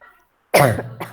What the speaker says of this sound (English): Because of that, my cough will be there.